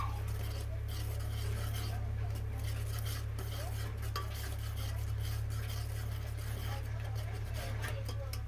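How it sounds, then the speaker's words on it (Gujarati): A spoon stirs mixed panchratna dal with garam masala in a cooking pot, producing continuous scraping and metal-on-pot rubbing over a constant low hum from the stove. "હવે આપણે આને હલાવી નાખશું"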